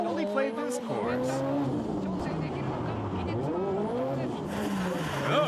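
A drift car at the 2011 D1SL Round 2 event at Maze attacks the course, its engine revving and rising and falling in pitch while tires squeal through the slides, loud and close throughout.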